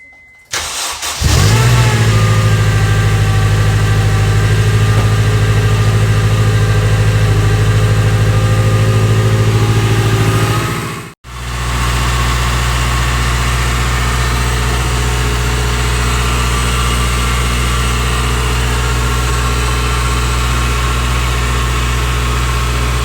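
Turbocharged car engine with a rebuilt turbo cranks and fires up, then idles with a steady, loud drone; a brief cutout near the middle before the idle resumes, no voices.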